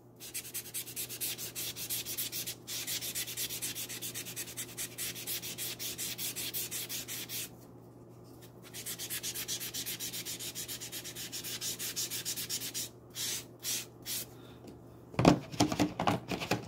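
A resin-bond diamond sharpening stone scrubbed with a Mr. Clean Rust Magic Eraser, giving fast rhythmic gritty rubbing strokes close by, with a few pauses and some knocks at the end.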